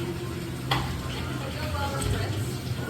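Built-up coffee grounds are scraped from the burrs of a Mahlkonig E83S/E65S grinder: a continuous gritty scraping and rasping close by, with a sharp tick partway through.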